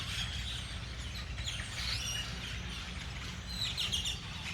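Noisy blackbirds calling in New Mexico, scattered faint chirps and whistly calls over a low background rumble, distant and quiet.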